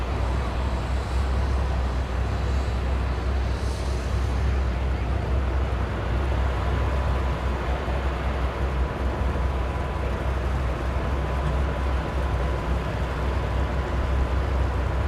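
Chevrolet Silverado and Camaro at a drag strip, a steady low engine roar filling the whole stretch at constant level, with crowd noise and faint announcer-like talk mixed in.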